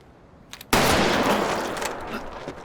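A single loud gunshot from the Front Man firing at Jun-ho in a Squid Game scene, a sharp crack after a brief quiet lead-in, followed by a long ringing, noisy decay that fades slowly.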